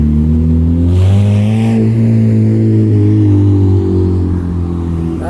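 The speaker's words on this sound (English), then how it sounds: "for a little Honda. It's making a lot of noise." A small Honda car drives past loudly along a city street, its engine droning steadily and shifting in pitch as it nears, rising in volume and then fading away.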